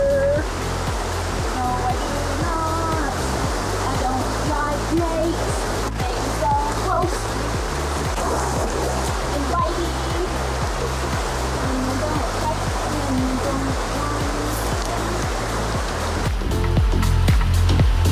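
A river in Monteverde, Costa Rica flows steadily through the whole stretch, a broad continuous rush of water with faint voices and some handling noise in the background, swelling slightly louder near the end.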